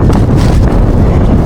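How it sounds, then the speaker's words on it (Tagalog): Strong wind at sea during a fishing trip, roaring loudly and steadily as it buffets the microphone throughout, with a faint wash of water beneath and no voices. "Lumalakas ang hangin."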